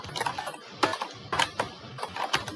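Computer keyboard typing during a Linux terminal session: clusters of crisp, close key taps in short bursts with brief pauses, fairly quiet, with no voices.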